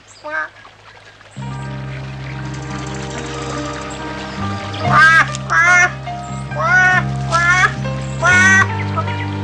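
A cartoon duck quacks repeatedly in loud, raspy bursts over a steady low hum, the calls clustered in the second half.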